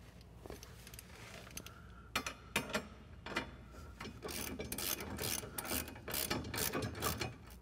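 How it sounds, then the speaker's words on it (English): A hand ratchet tightens the bolts on a UTV snow plow mount, its rapid clicking coming in short bursts at first and then in longer, steadier runs of cranking close by. "So let's go ahead and tighten everything down."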